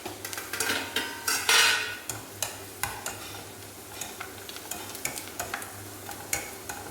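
Bitter gourd pieces fry in hot coconut oil in a pan, a soft sizzle under repeated scraping and stirring taps of a spoon against the pan, close and fairly quiet, with no talking.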